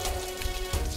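Steady rain pours down outdoors in a close, loud, continuous hiss of drops spattering on surfaces.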